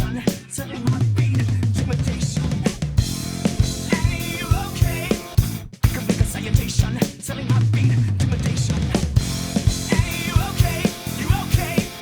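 A full band track with a steady drum pattern driving underneath, cymbal crashes and fills punctuating dense, loud music throughout.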